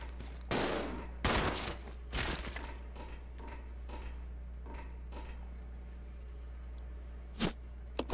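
Gunfire in the survival horror game Resident Evil Zero: several sharp, loud shots at uneven intervals over the first few seconds, then sparser fainter shots and a final burst near the end, with no talking.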